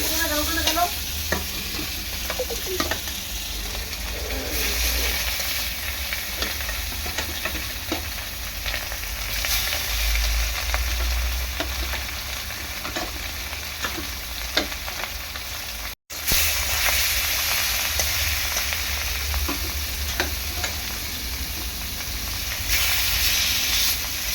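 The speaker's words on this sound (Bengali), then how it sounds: "আরও কয়েকটা মাছ আছে, এই কটা একটু ভেজে নেব।" Fish fry in hot oil with a loud, steady, hissing sizzle and bursts of spattering that continue almost without a break, cut by one brief silent gap.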